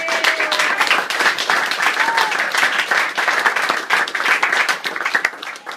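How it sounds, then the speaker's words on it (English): Audience at a summer sports awards ceremony applauding a coach, lively close clapping with distinct individual hand claps, a few voices calling out over it. "we wanted to give Coach Jason a nice round of applause"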